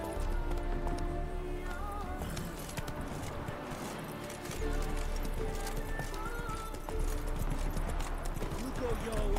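Hooves clip-clop steadily as a horse gallops in The Witcher 3, under a dense layer of game music and ambience, with a whinny and a voice speaking briefly over the running.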